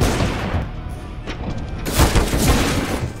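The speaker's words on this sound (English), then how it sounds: "I just shot my teammate" Video game gunfire with a dense, loud rattle of shots, a brief lull, then another heavy burst with thuds, close and booming throughout, no talk.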